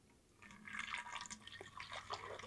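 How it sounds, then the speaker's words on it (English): Water from a tap filling a bottle for a children's science experiment, a soft trickling and dripping stream, fairly quiet and close, with no talk. "And then you're just going to fill up one of your bottles"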